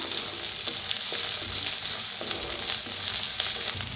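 Onion and curry leaves frying in a pan for a Maharashtrian buttermilk pithla, a dense continuous close sizzle with occasional stirring scrapes, no voices.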